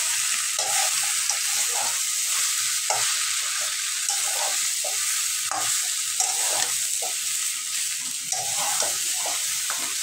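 Onions stirring and frying in a pan for a village-style jackfruit and shrimp curry, a steady loud sizzle with irregular scraping stirs throughout and no talk.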